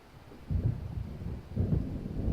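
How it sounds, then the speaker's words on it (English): Thunder from an approaching storm in the game Alan Wake rolls in two deep, muffled rumbles, swelling at about half a second and again near one and a half seconds. "It seems there's a storm coming."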